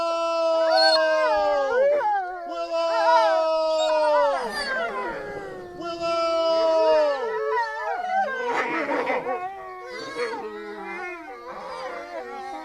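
Several dogs howl in long, rising and falling wails that overlap, loud and sustained, while a man calls out a name now and then.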